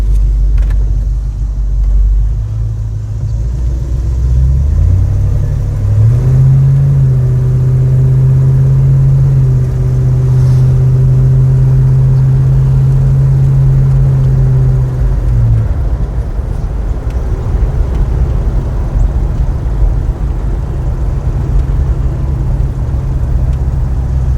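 A 1989 Chevrolet S10 pickup fitted with a V8 rumbles loud and close as it drives, its engine note rising and then dropping as the automatic transmission works up through the gears, with steady road rumble underneath.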